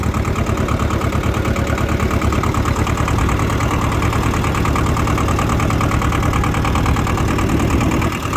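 A Shibaura SD2200 22 hp two-wheel-drive mini tractor engine chugging steadily while driving in its fastest gear, a loud rhythmic rumble with a fast even beat and no talking.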